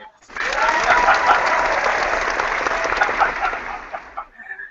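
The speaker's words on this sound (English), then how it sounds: "Get HeatGuard today a round of applause there" Applause on a bowling podcast, a dense wash of clapping that swells in quickly and holds fairly steady before thinning out near the end, with a faint voice or two beneath it.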